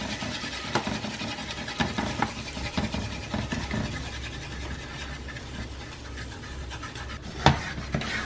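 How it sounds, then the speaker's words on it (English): A whisk scrapes steadily through flour and oil in a pot while a roux is made for a shrimp, corn and crab bisque, producing a continuous rhythmic scratching with occasional sharper clacks against the pan. "You just want to slowly start to whisk it in."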